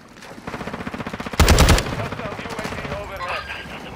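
Rapid automatic gunfire from the game Warzone 2 rattles in quick bursts, with a louder, heavier blast in the middle followed by more repeated shots, close and dominant.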